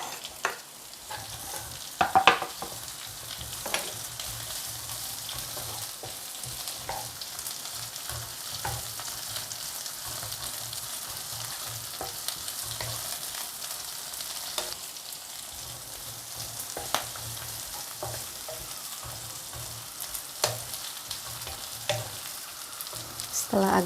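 Chili sizzles and fries with shallots and garlic in a pan while blood clams wait to go in, a steady close crackle broken by occasional sharper stirring scrapes and spatters across the whole stretch, with no talking.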